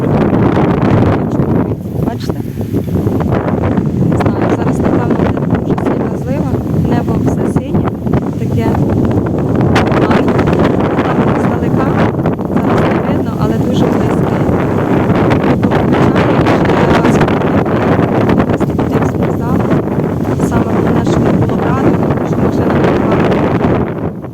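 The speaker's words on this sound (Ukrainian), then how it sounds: "стало дуже так вітряно, дуже сильно вітряно" Steady, strong wind roars and rushes across the microphone throughout, loud and unbroken.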